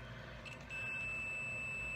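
A steady high electronic beep from a multimeter's continuity test on a shorted diode in an Alba LCD TV power supply starts partway through and holds continuously, with low hum underneath.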